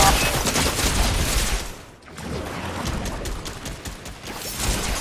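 Rapid bursts of gunfire in a battle royale shooter match, loud and close, a dense volley that briefly cuts out before more shots rattle on.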